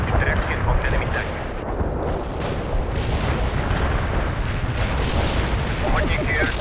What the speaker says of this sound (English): You have incoming artillery again, Romanov.